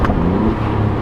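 Alfa Romeo Giulia Quadrifoglio engine pulling hard under acceleration, a loud, steady low growl heard close up with no talking.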